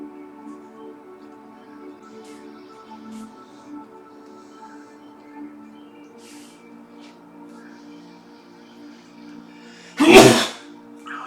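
A single sharp sneeze bursts out near the end, loud and close, after a long quiet stretch of faint steady hum.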